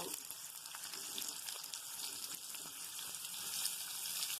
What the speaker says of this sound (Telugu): ఇప్పుడు మనం కట్ చేసిన ఉల్లిపాయలు వేసి ఫ్రై చేసుకుందాం.